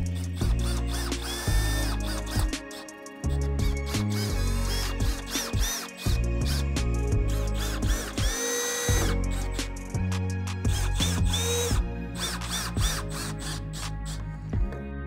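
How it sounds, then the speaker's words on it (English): Power drill driving screws into 3/4 inch plywood while building a DIY dog crate, loud close bursts of whirring motor that rise and stop repeatedly, with short pauses between screws and no talk. "Fasten the side and the back to the bottom with glue and screws."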